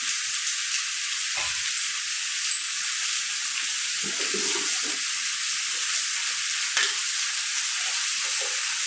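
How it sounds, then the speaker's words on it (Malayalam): Potato fry with garam masala sizzling steadily in a pan, with a few soft stirring scrapes and clinks standing out over the continuous frying hiss; no one speaks. "ഇളക്കിയതിന് ശേഷം അത് ഇളക്കി ചേർത്തിട്ട് ഞാൻ ഗരം മസാല ഇട്ടൊന്ന് ഇളക്കി നേരെ ചേർത്തിട്ട്"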